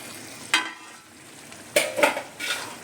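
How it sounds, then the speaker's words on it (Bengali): A spice paste of onion, garlic, ginger and green chilli paste with chilli powder is sautéed and stirred in a pan. A faint sizzle runs underneath while a spoon scrapes and clinks in a few sharp bursts. "এবার এটা কষবে।"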